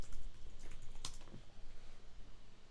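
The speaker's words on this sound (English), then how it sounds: "Oh, type in your password." A password being typed on a computer keyboard, a quick run of soft key clicks with one sharper tap partway through, close and fairly quiet, with no talking.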